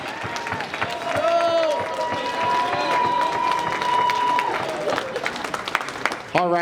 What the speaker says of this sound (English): Let's get a big round of applause for the maid of honor